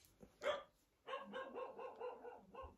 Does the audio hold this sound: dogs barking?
yes